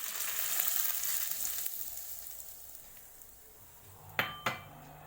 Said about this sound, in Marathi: कढीपत्ता घातला आहे ह्या मिरच्या घातल्या आहेत आणि आता आपण त्याला असा तडका मारायचा आहे